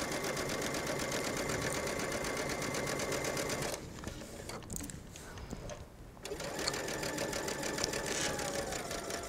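A sewing machine stitches a facing onto an unlined jacket with a fast, even mechanical whirr, stopping briefly midway before resuming, close and steady throughout.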